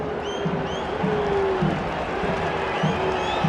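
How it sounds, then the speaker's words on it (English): Columbus Crew supporters applaud and cheer across a stadium during a Concacaf Champions Cup final match, a steady wash of crowd noise with distant whistles and chants rising over the general roar. "The crew fans applaud as their side bursts back to life"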